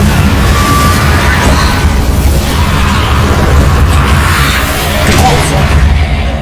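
Confringo spell explosions in Hogwarts Legacy roll together into a loud, sustained stream of booms and bursts with rumbling low end and crackling debris throughout.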